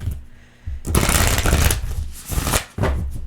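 Oracle cards shuffled in quick repeated riffles, a close, crisp fluttering and slapping of card stock in several bursts with brief pauses between them.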